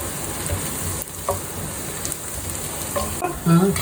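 Vegetables for pulao sautéing in a pot, a steady close sizzle like light rain, with a few scrapes and a brief voiced sound near the end.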